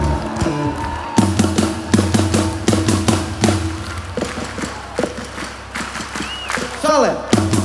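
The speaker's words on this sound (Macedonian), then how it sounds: "Дайте ми раце у ист ритам" At a concert in Skopje's Metropolis Arena, the crowd claps along in rhythm to sharp, regular drum thumps. A voice speaks briefly over the beat.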